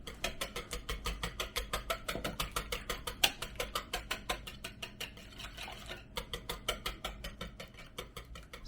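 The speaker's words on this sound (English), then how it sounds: "Tabitha at the moment then is getting her eggs beaten up here" Whole eggs and yolks for spritz cookie dough get beaten by hand in a bowl, a fast, steady ticking of utensil against dish repeating around three times a second, fairly quiet and close, with no talk.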